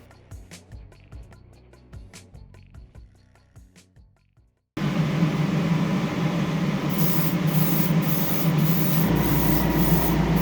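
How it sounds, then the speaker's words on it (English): An air compressor in a home-built waterfall spray booth, used for spray painting, kicks in abruptly midway, its loud steady drone replacing the quieter scattered tapping and clicks that came before. "That's my compressor kicking in."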